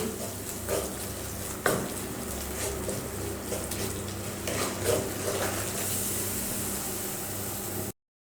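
Turmeric powder being stirred in a hot frying pan with oil for a Kerala cabbage stir-fry, giving a steady sizzle with scraping strokes that stops abruptly near the end, no talk.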